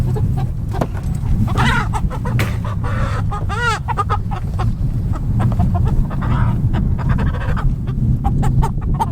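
Chickens cluck and squawk steadily in a farmyard coop, with a rooster-like call among the flock and constant shuffling and bumping nearby.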